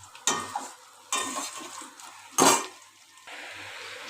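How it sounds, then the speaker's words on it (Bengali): Vermicelli frying in ghee in a pan, heard as a soft hiss broken by three loud bursts of scraping and stirring against the pan, fairly close, with no talk. "এবার আমি ভেজে নিচ্ছি সিমুইটাকে।"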